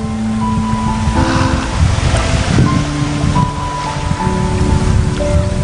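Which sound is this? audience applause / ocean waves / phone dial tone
ocean waves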